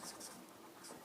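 Pen scratching on paper while working a Class 10 NCERT maths problem on surface area and volume, with a few quick strokes close by and faint room noise beneath.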